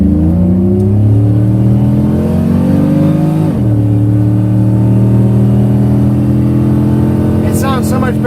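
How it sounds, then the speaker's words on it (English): A car engine with its exhaust plug removed revs loudly at the Speed World Orlando drag strip. A sustained deep roar sweeps upward, drops sharply partway through, then holds a steady drone, close and dominant. "It sounds so much better without the exhaust plug."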